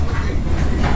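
A passenger train on the way to Phong Nha gets rolling again, a loud close rumble with steady clattering wheels filling the short moment without a pause.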